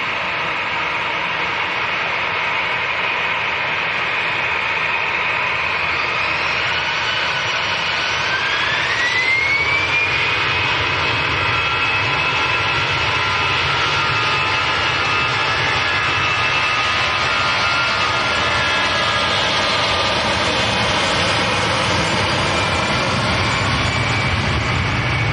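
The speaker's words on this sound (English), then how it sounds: "The EasyJet in front of us that's making all the noise, that's going down to Paris." An EasyJet jet airliner runs its engines at Manchester Airport, a loud steady roar with a whining tone that rises and then holds, continuous and close for the whole stretch.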